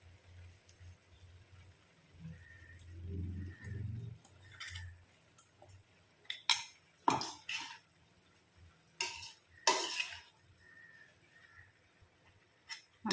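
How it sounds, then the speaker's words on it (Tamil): A spoon mixes ground masala into cooked bottle gourd in a pan, producing intermittent metallic clinks and scrapes against the pan with a soft low shuffle early on, close but faint, with no voices. "இப்போ நம்ம அரைச்சி வச்ச மசாலாவை கொட்டி கலந்துக்கலாங்க."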